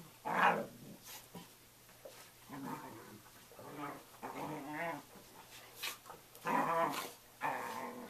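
Dogs growl and grumble in short, scrappy bursts, close by, with playful snarls and a few sharper yelps scattered through.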